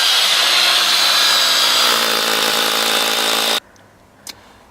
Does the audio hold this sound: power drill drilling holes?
yes